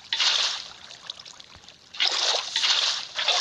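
A bucket scooping water in Minecraft, heard as bright splashing, sloshing bursts: one long fill, a short lull, then two or three more splashy scoops in quick succession.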